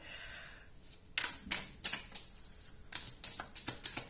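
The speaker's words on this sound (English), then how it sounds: "So I'm going to pull some cards to clarify." Tarot cards are shuffled and drawn by hand, making bursts of quick, crisp riffling and tapping that come close and clear in uneven clusters, with no talking.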